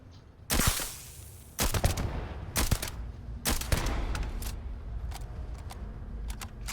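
Gunfire in the game Starfield during a bank robbery: several loud separate volleys of shots with short pauses between them, followed by quieter sharp single reports.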